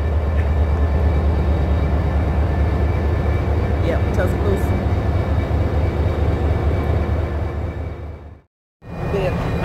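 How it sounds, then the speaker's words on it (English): Steady low rumbling hum of an indoor station hall with faint echoing background noise, briefly broken by a few spoken words; the sound cuts out near the end. "we're in the train station"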